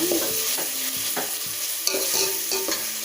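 Vegetables for veg biryani, with tomato and ginger-garlic, are sautéed in a pan: steady rhythmic spoon scrapes and clinks every half second over a constant loud sizzle, close up and with no voices.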